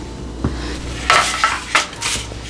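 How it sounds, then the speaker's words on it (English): Garlic mush is spooned onto a metal cookie sheet, giving a few sharp metallic clinks and scrapes spaced across a quiet kitchen background. "I'm just gonna spoon it out onto this cookie sheet"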